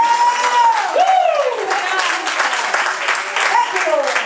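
Church congregation applauding during a bilingual Spanish-English service, steady clapping and crowd noise throughout under a preacher's loud voice.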